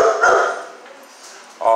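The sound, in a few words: dog barking at a dog pound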